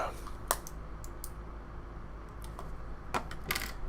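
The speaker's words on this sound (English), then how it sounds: "You hear more typing." A computer keyboard is typed on in a few scattered, faint clicks over a steady low hum, with no voices.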